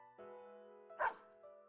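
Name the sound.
dog Snowy barking in video game Persona 4 Arena Ultimax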